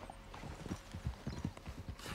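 Horse hooves trot in a steady clip-clop rhythm in Red Dead Redemption 2, faint and distant with no talking.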